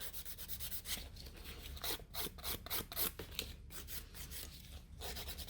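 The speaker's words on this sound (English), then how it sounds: "that's them all nicely filed, and now I'm just going to give it a nice buff" A nail file works over gel nail overlays in a salon, giving soft, close, rhythmic rasping strokes in quick irregular bursts at low volume, with no talk.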